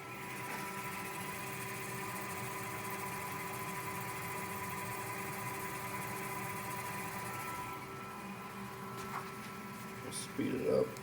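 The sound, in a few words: Tormach 440 CNC mill spindle running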